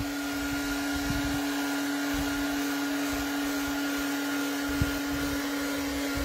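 A hair-dryer-style drying tool blows air steadily over glitter paste on a gift box craft, a continuous close whirring hum with a fixed motor whine that runs unbroken throughout, with no talking.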